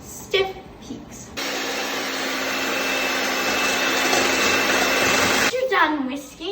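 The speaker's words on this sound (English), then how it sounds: "I recommend an electric mixer because it's a lot faster" An electric mixer whisking egg whites toward stiff peaks, a steady loud whirring drone that starts abruptly and runs about four seconds before cutting off, with someone talking briefly before and after.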